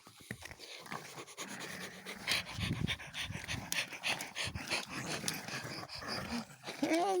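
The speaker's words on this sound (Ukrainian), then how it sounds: "Собака дика така." A dog pants quickly and steadily close by, with a human voice murmuring faintly in the background.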